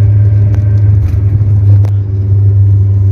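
A Suzuki Ertiga automatic cruising at night at about 100 to 120 km/h, heard from inside the cabin as a steady, loud low engine and road rumble with a couple of faint brief clicks.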